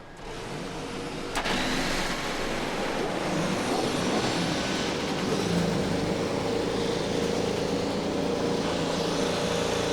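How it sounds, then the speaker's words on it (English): IndyCar race car engines firing up on the grid at the 2019 Firestone Grand Prix of Monterey, a loud, dense, continuous roar that jumps in level at about 1.5 seconds and holds steady with no talk. "Drivers, start your engines."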